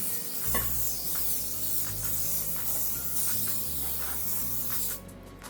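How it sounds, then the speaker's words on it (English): Steady aerosol hiss of cooking oil spray, close and continuous for about five seconds over low kitchen rumble, then cutting off abruptly. "Spray it well. Also spray the side so it doesn't stick when you're cutting."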